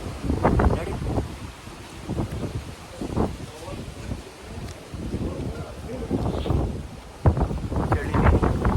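Cold wind in fog on a mountain peak near Chikkamagaluru buffets the microphone as rumbling, gusty noise, with people talking intermittently under and through the gusts.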